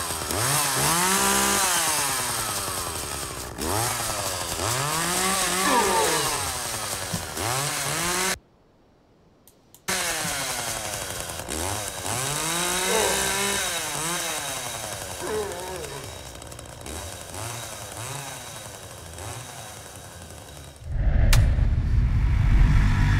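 A Leatherface Halloween prop chainsaw runs in loud, continuous revving bursts with rising and falling whine, cutting out briefly once before a harsh buzzing roar returns near the end.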